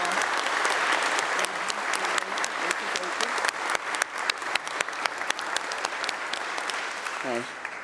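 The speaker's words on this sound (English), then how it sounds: "we should really give a round of applause to our staffs who do so much" Clapping rings through the New York State Senate chamber in honour of staff. The claps are sharp and individually audible, thinning into scattered hits toward the end, with faint murmuring voices underneath and a brief vocal sound at the close.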